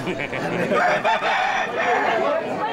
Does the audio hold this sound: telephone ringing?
no